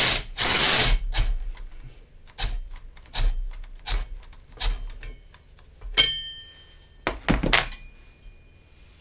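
A Craftsman ratchet clicks sharply as it turns sockets on a Troy Bilt tiller during tine replacement, with short bursts of ratcheting separated by pauses and metallic clinks, close and loud.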